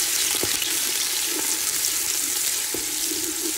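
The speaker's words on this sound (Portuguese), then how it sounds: "Nós vamos dourar um pouco essa cebola." Chopped onion browns in a pan, giving a loud, steady sizzling hiss with a few faint knocks, and no one speaks over it.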